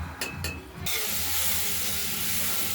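Spice paste for a boal fish curry frying in hot oil: a couple of stirring scrapes, then a loud, steady sizzle and hiss that fills the rest of the clip.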